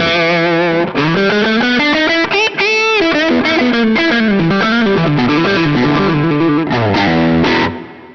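Heavily overdriven electric guitar chords through a JHS Sweet Tea V2 pedal, gain at about 3 o'clock, ring out loud and saturated, sustained and gritty throughout, then cut off near the end.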